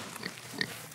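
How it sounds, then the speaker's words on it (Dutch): Pigs on a Dutch nature site make short grunts, a brief oink or two under a steady outdoor background. "Kijk, de varken."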